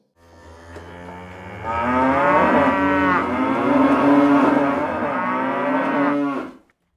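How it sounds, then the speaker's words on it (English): A cow lets out a long, loud moo that swells and holds for several seconds before cutting off, with other cattle lowing softly beneath it. "And now, the sounds of most of the cows in Wales."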